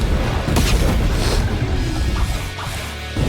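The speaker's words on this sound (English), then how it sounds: "When you shoot this thing against the surface, look at the explosion and the impact." An explosion from an attack move striking a surface in the Blox Fruits video game: a loud, close boom and crash that then decays into a rumbling tail.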